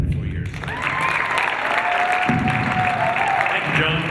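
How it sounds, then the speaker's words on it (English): Crowd applause at a Moorpark College football game against Santa Barbara, steady and loud clapping from a stadium crowd with cheers mixed in, heard throughout with a voice over the public address. "we ask you to clap and cheer for Steve Burkhardt"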